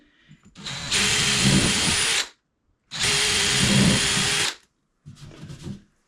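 A power drill whirs in two long, loud bursts separated by a brief pause, followed by a shorter, rougher burst drilling into a wall with no studs for wall anchors.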